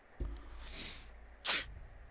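Single sneeze from a character in the Persona 4 Golden video game, a short breathy intake followed by one sharp burst near the end, with light background ambience.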